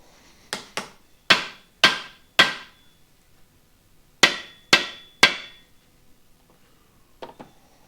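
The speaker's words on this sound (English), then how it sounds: "grab my dead blow" Dead blow hammer strikes on a thrust bearing part during a 604 crate engine build: two pairs and a trio of sharp, close, loud blows, each with a quick decay, followed by faint later taps.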